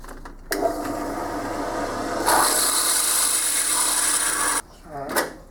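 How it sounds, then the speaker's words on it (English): Step drilling a workpiece held on a lathe, the drill fed from the tailstock: a steady, loud rasping grind that turns harsher and brighter partway through, then stops abruptly, followed by a short low scrape. "I'm going to be step drilling this."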